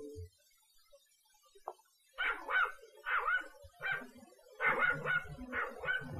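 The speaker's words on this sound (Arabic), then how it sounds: "كلب صغير." A small dog in a cartoon barks in a quick run of sharp yips, two or three at a time with short gaps between, fairly close and clear over an otherwise quiet background.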